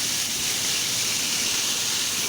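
Ginger garlic paste with whole spices such as cardamom frying in hot oil gives a loud, steady, close sizzle and hiss, unbroken and without talking.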